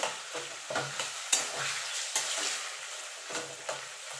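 Cooked taro leaves with coconut and chickpeas being stirred and mashed in a pan: repeated soft scraping and thumping strokes at an irregular pace, moderately quiet over a faint background sizzle.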